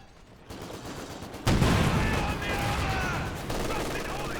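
Sustained machine gun fire in the video game Company of Heroes 2, LMG Grenadiers under fire, with a dense, continuous rattle that swells louder partway through, mixed with battle noise and a voice talking over it.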